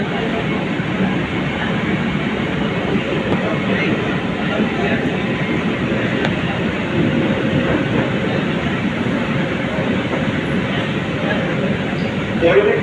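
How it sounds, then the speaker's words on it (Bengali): A Kolkata metro train pulls away from a station, heard from inside as a loud, continuous rumble and rolling hum with faint rail clatter that never lets up. "মেট্রো কিন্তু ছেড়ে দিল স্টেশন থেকে"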